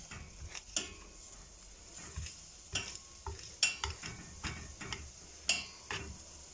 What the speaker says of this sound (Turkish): Sarımsaklarımızı eziyoruz.